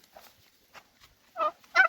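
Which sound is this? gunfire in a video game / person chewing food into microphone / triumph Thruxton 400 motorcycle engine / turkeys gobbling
turkeys gobbling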